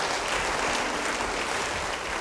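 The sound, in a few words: applause from church congregation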